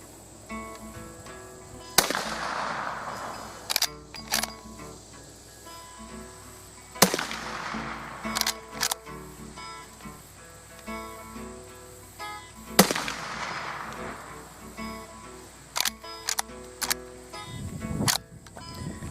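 Sharp, loud shots from a reproduction gun ring out one at a time at uneven intervals, with smaller clicks and handling noises between them and no talking.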